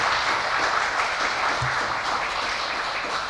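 Sustained audience applause fills a hall during a National Honor Society induction and awards ceremony, a steady dense wash of many hands clapping with no talk over it.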